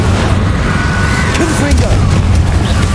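Incendio fire spell cast in Hogwarts Legacy, a loud rumbling whoosh of flame with a deep low roar sustained throughout, heavy and close, with a voice faintly heard.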